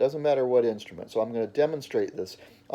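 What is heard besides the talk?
None of the usual background noises is heard.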